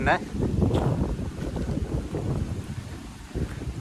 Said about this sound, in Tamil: அந்தளவுக்கு ஒரு காற்று வீசி கொண்டிருக்கு